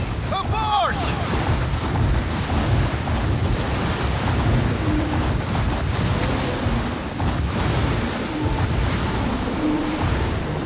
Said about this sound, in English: water sound sounds strange.